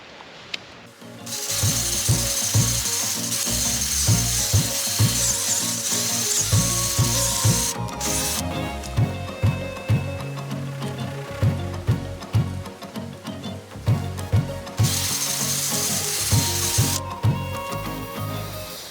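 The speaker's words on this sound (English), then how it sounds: "move the drill around until I get the size hole that I'm looking for" A power drill fitted with a garden auger bores and widens a hole in potting soil for pepper plants, whirring steadily with rhythmic grinding knocks and brief pauses, close and loud.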